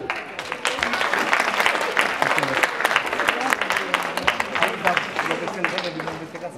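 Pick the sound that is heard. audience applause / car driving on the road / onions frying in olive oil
audience applause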